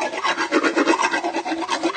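A dental float rasp filing a horse's teeth, giving a steady back-and-forth gritty scraping in quick rhythmic strokes, loud and close with no talking.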